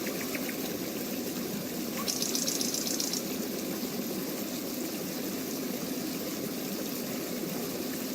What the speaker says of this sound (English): we'll remove the river sounds, the nature sounds